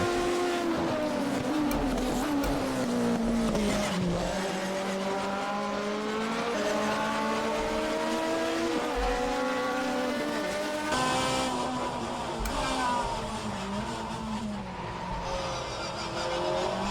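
A screaming Alfa Romeo 155 Ti touring car engine heard from the cockpit in a racing game at Bathurst, loud high-revving wail rising and dropping through gear changes, with tire squeal along the way.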